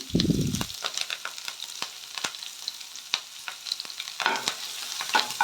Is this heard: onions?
yes